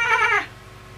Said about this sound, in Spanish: Ok, aquí está mi gato.